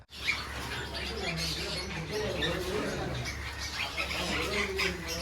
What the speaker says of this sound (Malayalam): ഇതൊക്കെ അമേരിക്കയിൽ കാണപ്പെടുന്ന ഒരു പക്ഷിയാണ് കേട്ടോ ബ്ലൂ ആൻഡ് ഗോൾഡ് മക്കാവ്